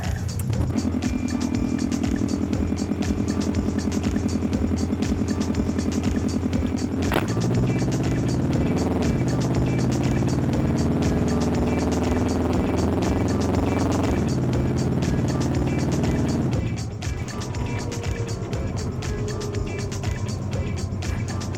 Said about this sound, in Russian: Выхлопа нет, просто с даунпайпа сечет